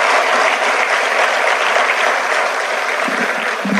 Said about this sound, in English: We will clap with the same intensity as you are clapping for someone else